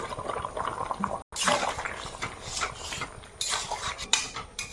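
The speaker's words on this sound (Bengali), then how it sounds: "এবারে ভাজা মাছগুলো দেব" Fried fish pieces going into a pot of papaya curry, with clattering utensil and pot sounds and wet splashes of liquid, close and fairly busy, with a brief pause near the start.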